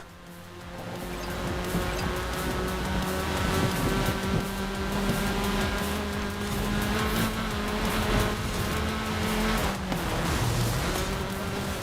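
A Volkswagen racing in Forza Horizon 5 Eliminator mode, its steady sustained engine drone holding a constant pitch for most of the stretch, loud and continuous, with a brief shift in tone near the end.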